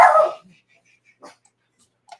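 A dog lets out a short, loud bark up close, followed by a few faint yips and whimpers spaced out over quiet gaps.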